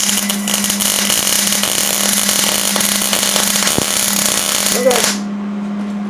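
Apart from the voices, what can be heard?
welding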